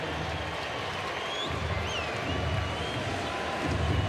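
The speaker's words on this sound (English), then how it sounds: "the crowd is cheering" A baseball stadium crowd cheers for a Yankees fan couple who just got engaged, a steady, broad roar from the stands with whistles rising above it, swelling slightly toward the end.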